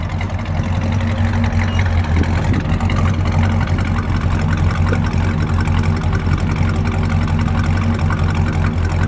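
A 1968 Chrysler 300 two-door with a 440 V8 idles steadily up close, a loud, even rumble throughout with no revving.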